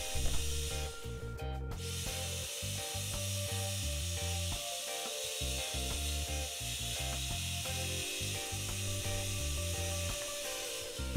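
Cutting slots in plywood along template lines for a paddleboard build gives a steady, repetitive rasping saw stroke, close and continuous at moderate level with no talk.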